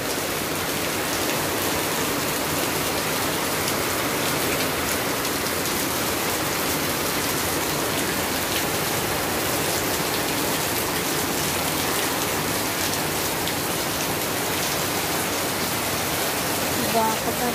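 Heavy rain pours down onto a flooded road, a dense, constant hiss of downpour that stays loud and even from start to finish, with no break or letup.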